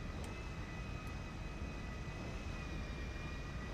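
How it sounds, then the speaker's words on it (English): Police helicopter in Grand Theft Auto V: a faint, steady, continuous engine and rotor drone with no talk over it. "That police helicopter is attacking someone."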